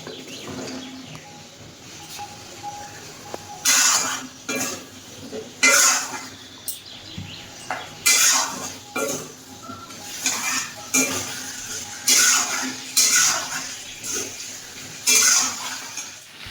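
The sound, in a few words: stir-frying taro pieces in a pan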